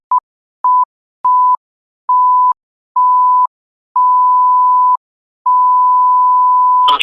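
A Vodafone voicemail service sounds a series of clean, loud electronic tones at one steady pitch, starting as short beeps and stretching into longer ones with silent gaps between, before a brief burst of noise at the very end.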